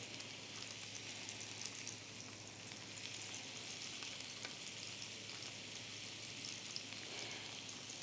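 Strips of vegetarian bacon sizzle in a frying pan with a dense, continuous hiss peppered by small pops and crackles, heard up close without any talking.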